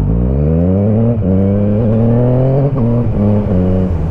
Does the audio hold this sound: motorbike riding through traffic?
yes